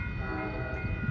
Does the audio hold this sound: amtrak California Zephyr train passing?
yes